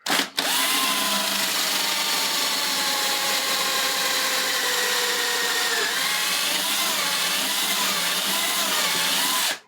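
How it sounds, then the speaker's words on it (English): A power drill runs continuously at high speed, loud and close, its pitch dipping slightly as it bites into wood of a cabinet face frame before cutting off. "Now that I've drilled this out"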